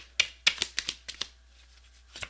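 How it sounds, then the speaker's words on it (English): Quick riffling bursts of a deck of cards being shuffled, several rapid flutters in a row, close and fairly quiet. "Shuffle one more time."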